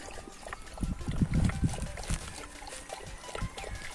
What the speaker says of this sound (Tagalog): Ayan, minum siya ng tubig.